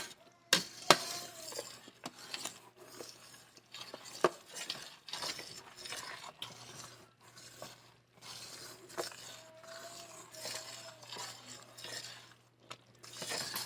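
A spoon scraping around the bottom and sides of a pot of strawberry banana habanero jelly, giving soft, irregular stirring scrapes with a few sharper clinks, fairly quiet and with no talk.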